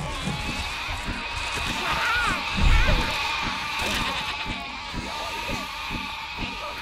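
Sheep in the video game Overlord: Raising Hell bleat several times over a dense bed of game music and ambience, clear but partly blended into the mix.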